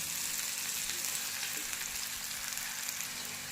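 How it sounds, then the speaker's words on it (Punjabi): Cashews fry with spices in a pan, giving a steady, even sizzle that stays at a constant low level throughout with no talking. "ਨਾਲੇ ਕਾਜੂ ਪਾ ਲੈਣਾ ਇਹਨਾਂ ਨੂੰ ਵੀ ਨਾਲ ਹੀ ਫਰਾਈ ਕਰ ਲੈਣਾ ਹੈ"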